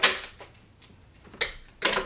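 Tarot cards shuffled by hand, heard as a few crisp, papery riffling bursts separated by short quiet gaps, close and fairly soft.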